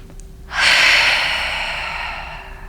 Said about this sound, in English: We inhale through the nose. Let all the work settle. Exhale, release the tension.